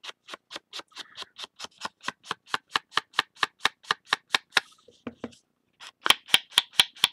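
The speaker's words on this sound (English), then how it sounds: "Sorry for the noise the paper's making" Paper being distressed is scraped and rubbed in quick, regular strokes, a steady crisp rhythm of rasping swipes close by, pausing briefly before a louder final burst.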